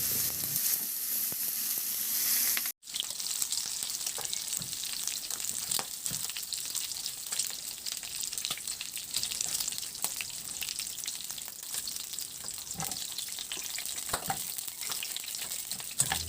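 Eggplant slices sizzle steadily in a hot frying pan, a dense, even hiss close by with a brief break partway through, no voices.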